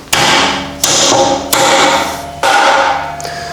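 Self-lubricating graphite bushes being hammered into a supercharged minibike part, four sharp, loud metallic strikes at uneven intervals, each ringing out and decaying before the next, with no talking.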